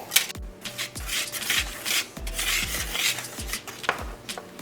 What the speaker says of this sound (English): And then I'm going to whisk this all together.